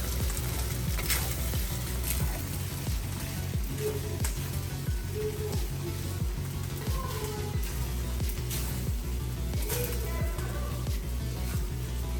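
Chicken fried rice with egg stirred in a pan, a continuous close sizzle with regular scraping and tapping strokes of a utensil throughout, steady and fairly loud.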